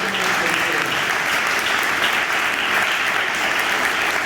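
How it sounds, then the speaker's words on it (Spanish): Congregation in a church service clapping together, a dense, continuous sustained applause filling the room at full volume throughout. "Démosle un aplauso al Señor por eso."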